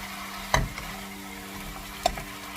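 Hong Kong bok choy and tofu stir-fried in a pan: a low steady sizzle with two brief clinks of a spatula on the metal, close and fairly quiet.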